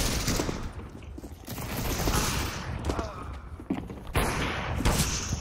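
Rapid gunfire bursts from the Counter-Strike: Global Offensive game on the Monastery map crackle repeatedly, with sharp shots and mechanical clatter over dense game noise, loud and continuous.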